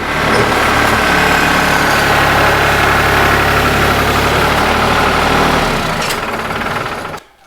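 A farm tractor engine runs close by with a loud, steady, rumbling idle and mechanical vibration for about seven seconds, then cuts off abruptly at the end.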